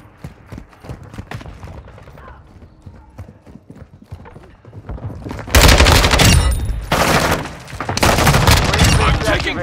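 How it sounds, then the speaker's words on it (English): Heavy automatic gunfire erupts in a Call of Duty Modern Warfare 2 team deathmatch, quieter scattered shots giving way to loud, sustained bursts that break briefly and resume. "I'm taking fire!"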